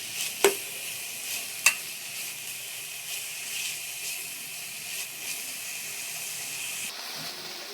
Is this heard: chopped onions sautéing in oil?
yes